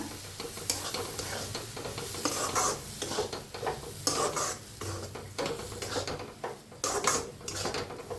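A jaggery mixture being stirred in a pot, with continuous scraping and clinking of a spoon against the metal over a soft bubbling sizzle, close and steady throughout.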